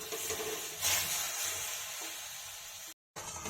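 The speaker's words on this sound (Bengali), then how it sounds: "গুড়টা যতক্ষণ না চিট আসবে ততক্ষণ আমাকে এইভাবে নাড়িয়ে দিতে হবে।" Sugarcane jaggery dissolving in water in a kadai hisses and sizzles steadily as it is stirred, with soft scraping strokes and a brief cut to silence near the end.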